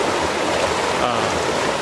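A creek flows steadily at dusk, a continuous broadband rush of running water close by with no other sounds standing out.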